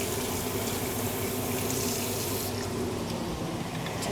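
Water is poured steadily into a pan of mushroom and dumpling filling while making sticky rice dumplings, a continuous close gushing rush that fills the whole stretch.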